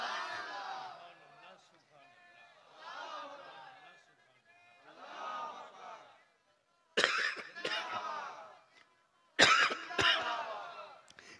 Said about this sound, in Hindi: मुझको खांसी होने लगी।